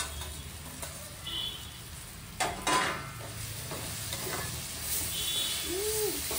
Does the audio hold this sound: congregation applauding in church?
no